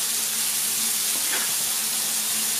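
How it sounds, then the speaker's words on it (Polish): Chopped onion sizzles in fat in a pan beside meatballs, a steady close hiss with a brief brighter flare midway where it is stirred, no voices. "I podsmażymy troszkę cebulkę na tym tłuszczyku"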